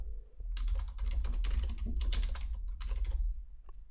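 A report name is typed on a computer keyboard, a quick close run of key clicks that comes in uneven bursts and then stops, with no talking.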